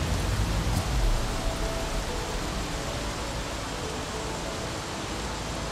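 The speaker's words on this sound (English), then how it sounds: "Do I want to stop it from raining?" Rain pours steadily in the video game Xing at Nehele, an even, loud wash of hissing droplets that swells slightly at the start and then holds constant, with no talking.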